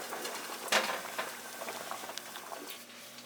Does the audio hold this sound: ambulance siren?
no